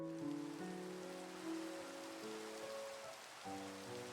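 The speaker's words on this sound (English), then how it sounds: "It's raining again." Rain falling in a video game, a steady hiss of rain on surfaces underneath sustained tonal game music, soft and even throughout with no speech.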